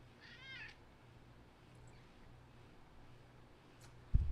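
A house cat gives a short meow near the start, then only faint room noise follows until a sudden thump at the very end.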